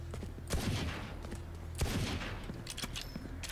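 Sheriff pistol gunfire in the video game Valorant, loud sharp shots arriving in quick clusters with short gaps, set against ambient game noise.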